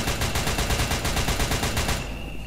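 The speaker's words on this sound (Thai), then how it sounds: "โอ้ดูพี่แก เขากำลังยิงอยู่เลยฮะ" Rapid automatic gunfire from MTF soldiers fighting zombies infected by SCP-008 in the video game SCP Containment Breach, a loud, evenly spaced burst of a dozen or so shots that stops abruptly near the end.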